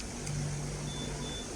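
Sniper 155R motorcycle engine idling steadily up close, a low continuous hum with a faint whine above it, holding even for a short stretch.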